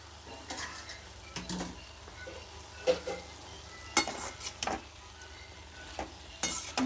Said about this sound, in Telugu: అప్పుడప్పుడు ఇలా తిప్పుకోవాలి, లేకపోతే మాడిపోతుంది అన్నమాట.